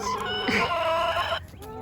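Chickens cluck and call close by, a short burst of overlapping fowl sounds with some rustling background noise, in a backyard chicken run.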